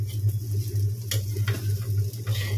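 Atta noodle chowmein with carrot, capsicum and potato fries in a pan with a steady, moderate sizzle over a low constant hum, broken by a few scraping clicks of stirring, near and without talk.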